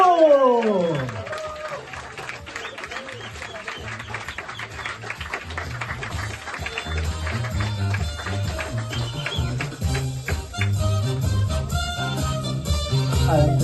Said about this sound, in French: s'il vous plaît, un maximum d'applaudissements.